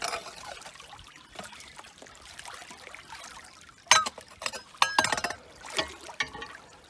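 Water flowing from a cleared 20-inch pipe inlet into a ditch, a continuous trickling rush with louder splashy bursts in the second half, no talking.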